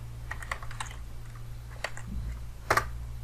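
A few soft, sparse keystrokes are tapped on a computer keyboard while entering a Kali Linux terminal command, quiet and close with small pauses between presses.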